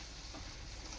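Onions frying in a pan, a steady, close sizzle and crackle of hot oil filling the whole second with no voices.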